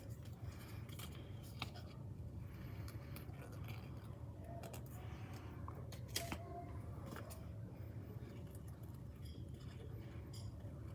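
Scissors snip repeatedly through paper while cutting out craft shapes for a pumpkin decoration, quiet and close, with small irregular cuts over a steady low background hum.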